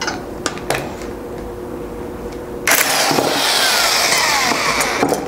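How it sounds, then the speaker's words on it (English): A puller works the flywheel off a Briggs & Stratton 5 HP flathead engine: a few sharp metallic clicks and taps, then a sudden loud, sustained whirring grind that continues to the end, with no talking. "And that is all there is to pulling the flywheel."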